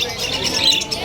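Small birds chirping and tweeting at a busy pet market in Bulacan, steady high twittering over a low murmur of crowd noise, with no clear speech.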